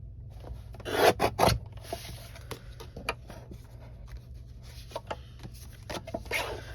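A paper trimmer slicing card stock for card making, a cluster of rasping cuts and rubs at the start followed by scattered lighter scrapes and taps over a faint low hum, close by with no talk.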